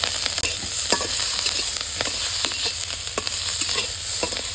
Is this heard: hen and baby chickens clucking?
no